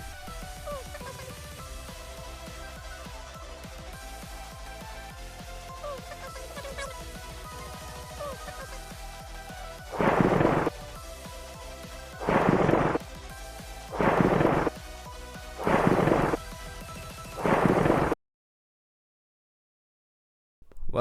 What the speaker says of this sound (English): Wait, is that a storm?